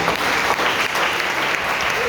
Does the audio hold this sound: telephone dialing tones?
no